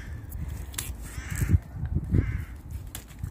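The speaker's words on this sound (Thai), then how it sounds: "เสียงนกเสียงกาเพิ่นฮ้องนะคะ" Crows cawing a few times outdoors on a rural vegetable farm while peas are picked, harsh calls moderately distant over a low rumbling background of wind and handling noise.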